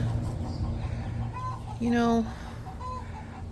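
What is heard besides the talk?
chickens clucking in the garden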